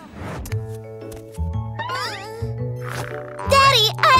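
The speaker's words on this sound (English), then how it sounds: "Oh, Kitty's stuck! Kitty's too scared!" Cartoon cat meowing repeatedly in a children's animated story, rising and wavering calls that come in several bursts, loudest toward the end, over a background of musical score and soft voices.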